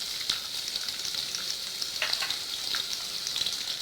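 Cashews and onions frying in hot oil in a pan for pulao, a steady close hiss of sizzling with a few soft stirring scrapes and pops, moderately quiet and continuous with no voices.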